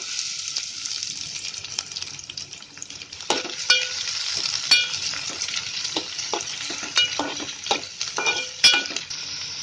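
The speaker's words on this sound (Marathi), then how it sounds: "त्याच्यामध्ये पहिलं तेल टाकते. आता त्याच्यामध्ये हा कांदा टाकते." Onion frying in oil in a pot, giving a continuous bright sizzle with intermittent clinks and scrapes from stirring, growing a little busier toward the end.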